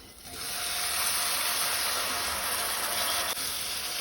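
Prawns hit hot oil for a Goan prawn pickle and sizzle in a steady, bright hiss that swells within half a second and holds evenly, close and fairly loud.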